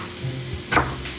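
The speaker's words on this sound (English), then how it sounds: "We've got the oil heating up in the pan." Hot oil sizzling in a frying pan, a faint steady crackle with a brief louder spit near the end, no talking.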